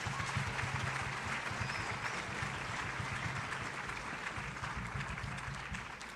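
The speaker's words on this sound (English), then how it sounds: "give yourselves a round of applause for those great kids that you have" An audience at a high school spring concert applauds the students, a soft, distant and steady patter of many hands clapping that slowly tapers off.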